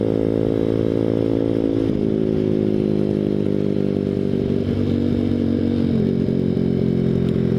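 A Grom clone motorcycle engine running with a more restrictive exhaust, giving a steady, loud buzzing drone at close range, with the pitch shifting slightly around two and six seconds as the throttle changes.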